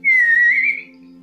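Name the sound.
person whistling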